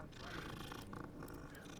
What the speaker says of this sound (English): I don't think I've pet this kitty yet. Let me pet him real quick.